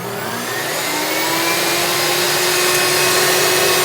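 A NutriBullet Pro Plus blender runs at full speed, a loud, steady motor whine with a broad roaring hiss, continuous and close for the whole stretch.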